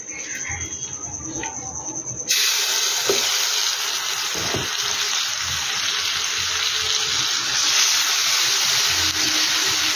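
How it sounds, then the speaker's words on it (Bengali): Chicken frying in mustard oil and butter in a kadai gives off a steady, loud, close sizzle that starts suddenly and keeps going, with a couple of faint knocks early on. "এবার এই চিকেনটাকে আমি রান্না করে নেব"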